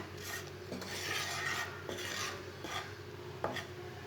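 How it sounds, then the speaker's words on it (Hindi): Ground spices cooking slowly in a pan over a low flame, stirred with soft scraping and rubbing strokes at an even, quiet level with small clinks. No one speaks. "आधा मिनट तक मसालों को मैंने पका लिया।"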